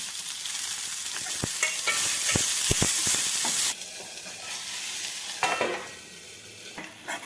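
Dill leaves fry in a spicy masala and are stirred in a pan, making a loud hissing sizzle broken by scraping stirs and clacks of a utensil, which eases to a quieter crackle toward the end.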